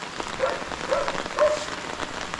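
Rain falls steadily in the mountains near a farm plot, a continuous soft patter with scattered louder drips close by and no voices.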